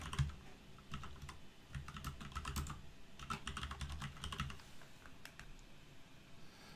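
Steady typing on a computer keyboard while entering text in a Word document: fast, close clicking keystrokes in bursts with short pauses, and no talking.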